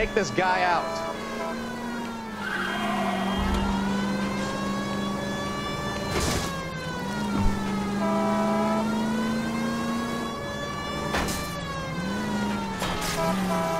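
A wailing siren rises and falls continuously during a video game car chase in L.A. Noire, with an engine droning underneath and a few sharp bangs, loud and up close throughout.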